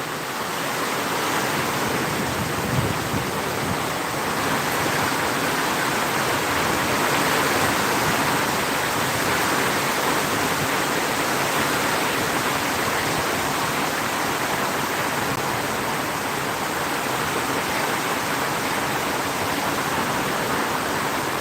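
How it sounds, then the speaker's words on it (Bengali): Dense, continuous roar of heavy rain mixed with strong wind during a storm in Phulpur, loud and unbroken throughout, with no voices. "খুব বৃষ্টির বেশি বৃষ্টি হচ্ছে এবং বাতাস হয়েছে"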